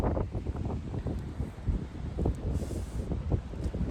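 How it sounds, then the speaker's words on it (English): Strong wind buffets the microphone beside an RV trailer in heavy, uneven gusts, a loud low roar that swells and dips with no pauses. "You can tell how windy it is."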